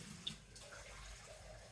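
Cold tap water runs steadily into a measuring jug at a kitchen sink, a soft continuous trickle and splash with one small clink near the start, fairly quiet and close.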